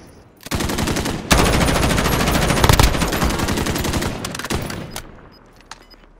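Sustained machine gun fire in the Call of Duty Modern Warfare video game rattles loud and close for about four seconds in a dense burst, then tapers off into scattered shots and quiet.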